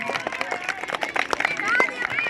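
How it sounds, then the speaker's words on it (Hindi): Applause at a school's annual sports week for class 8 after winning an inter-class kabaddi competition, scattered hand claps and crowd noise mixed with whistling and chatter. "क्लास 8 के लिए जोरदार तालियां बजा दीजिए।"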